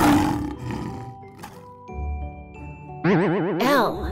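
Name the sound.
lion roaring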